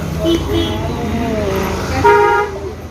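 Car horns honking in a traffic jam at Turab Nagar market in Ghaziabad, short toots and a longer blare over idling engines and road noise, with people talking nearby.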